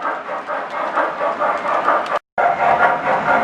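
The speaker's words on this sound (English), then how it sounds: "This model train layout is an O-gauge layout I built many years ago" An O-gauge model train runs along its track with a steady whirring clatter, cutting out for a split second midway before resuming.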